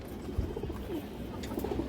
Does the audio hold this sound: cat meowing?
no